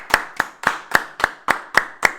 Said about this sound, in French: On peut applaudir les gars, c'est une très bonne idée.